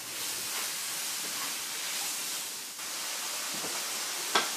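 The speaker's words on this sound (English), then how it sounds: "I'm going to toss in 4 ounces of ham, black forest ham, into the" Black forest ham heating in a skillet over low heat with onions and peppers, a continuous soft hiss of gentle sizzling with a single short tap near the end, close and fairly quiet, no talking.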